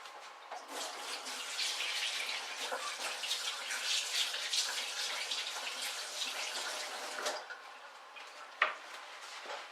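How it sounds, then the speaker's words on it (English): Water runs from a kitchen tap during hand washing, a steady close hiss and splash with small clatters, ending with a brief knock. "so I'm going to wash my hands."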